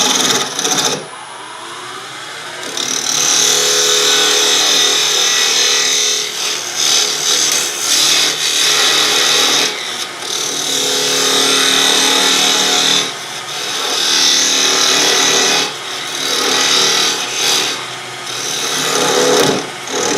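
Wood lathe turning a lidded box, a parting tool cutting into the lid, giving a steady loud rasping, scraping whir that runs continuously with slight swells and dips in intensity.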